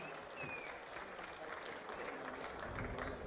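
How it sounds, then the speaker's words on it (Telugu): An audience at a political speech by a chief minister claps, a faint, steady wash of applause from a distant crowd, continuous throughout with no clear individual claps. "గట్టిగా చప్పట్లు కొట్టి అభినందించండి."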